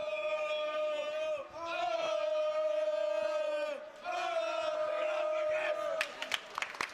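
A crowd at a college ice hockey game between the UC Bearcats and Ohio State at the Queen City Sportsplex chants in long sustained rhythmic phrases, loud and unified, with a short break and scattered claps near the end.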